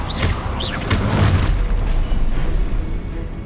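The Expelliarmus spell cast in the video game Hogwarts Legacy, a loud booming magical burst with a whooshing swell followed by a rumbling tail, with no voice.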